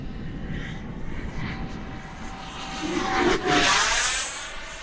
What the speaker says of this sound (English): Holy moly, what a nice flying jet.